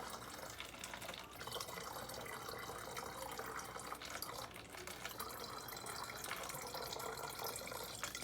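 Tap water runs steadily into a container being filled with about four cups, a continuous faint splashing hiss with no pauses.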